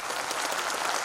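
At an international Buddhist conference in Gujarat, an audience claps to welcome visiting guests. The clapping is short, even and moderately loud.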